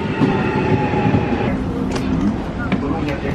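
A Trenitalia regional train at Venezia Santa Lucia railway station, a loud continuous rumble of rolling wagons with a few brief squeals, heard close up amid busy station ambience.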